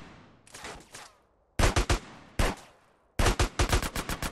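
Loud gunfire in GTA San Andreas comes in rapid bursts, a few scattered shots first, then two tight strings of quick automatic fire separated by a single blast, close and sharp.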